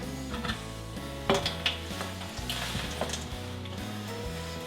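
Pork tenderloin coated in flour and egg white batter frying in a pan, a steady sizzle with faint clinks of utensils and cookware, no talking.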